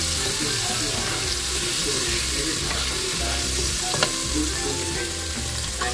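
Water mixed with chilli, cumin and coriander powder is poured onto vegetables frying in a pan, giving a loud steady sizzle with stirring scrapes and a splash close by.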